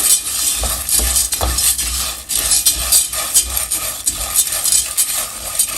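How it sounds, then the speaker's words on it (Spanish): Food browning in a pan over a low flame, sizzling with repeated scraping and stirring strokes of a utensil, close and fairly loud, steady rhythm throughout. "Vamos a estar aquí dorando poco a poquito con la flama bajita para que no se nos vaya a quemar."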